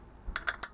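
A few quick, crisp clicking snips as sharp metal edges are trimmed off a homemade alcohol stove, close and fairly faint over a quiet background.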